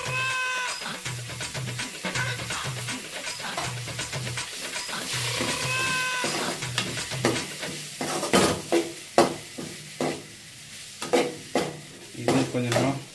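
Onions, tomatoes and dried chillies sautéing in a pan, with a steady close sizzle and a repeated rhythmic scraping of a spoon or spatula against the metal that grows sharper and more clattering toward the end.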